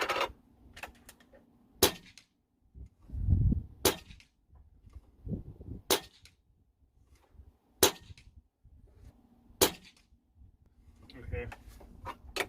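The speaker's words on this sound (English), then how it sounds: "We're going to shoot the 38 grains HP3." A Kral Puncher Breaker air rifle fires 38 grain .22 hollow-point slugs, giving six sharp, loud shots spaced about two seconds apart, each a crisp crack with short clatter between shots and low handling noise around them.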